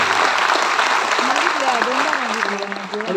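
An audience applauds for an industry minister at a World Environment Day event, broad clapping that fades slightly while a voice talks over it.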